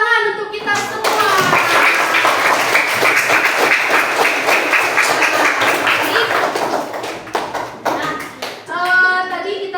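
Classroom applause breaks out after a group work session, a steady crowd of hands clapping for several seconds with children's voices mixed in, then tapering off as a voice resumes speaking.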